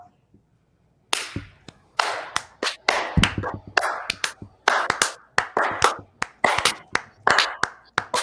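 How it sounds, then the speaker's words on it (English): A live audience at a comedy show gives a slow clap, a run of loud, sharp clap bursts that begin together after a brief quiet and drift apart in uneven rhythm, with faint voices underneath. "I've never seen a slow clap get progressively slower as it went on."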